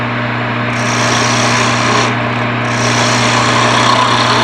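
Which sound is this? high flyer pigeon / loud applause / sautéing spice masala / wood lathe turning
wood lathe turning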